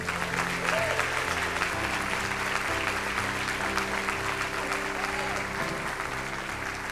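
A church congregation claps together during an evening service, a steady wash of applause blended with music playing underneath.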